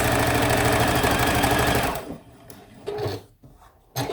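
A sewing machine stitching quilt fabric leaves, a steady fast mechanical whir for about two seconds that stops, followed by quieter handling sounds.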